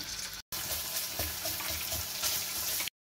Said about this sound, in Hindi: एक टेबल स्पून लहसुन और एक ही टेबल स्पून अदरक का डालेंगे